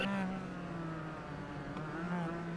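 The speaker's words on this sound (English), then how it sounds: "our pace car begins to roll off here" Race car engine idling and revving as the pace car rolls off at the head of a gridded field on a race track, a steady loud drone with a rising harmonic whine.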